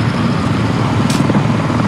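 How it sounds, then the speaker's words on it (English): Helicopter in the Squad military video game passing overhead, a steady low rotor drone that fills the clip at constant loudness with a brief hiss near the middle, no talk. "Hooker, watch your enemy helicopter flying back over. That is friendly. That is a friendly helicopter"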